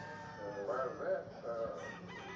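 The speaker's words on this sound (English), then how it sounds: "All the roosters on the yard." Roosters crowing in a farmyard full of breeding chickens, several drawn-out calls overlapping at moderate distance with steady background noise.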